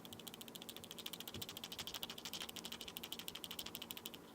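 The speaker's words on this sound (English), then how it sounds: "Rattling it side to side, you should hear a little rattle." A bearing spacer rattles inside a wheel hub as it is shaken side to side, giving a fast, steady run of small metallic clicks close up and alone.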